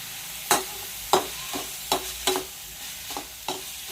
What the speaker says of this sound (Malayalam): ഇനി ഇതിലേക്ക് കറിവേപ്പില ഇട്ട് കൊടുക്കാം.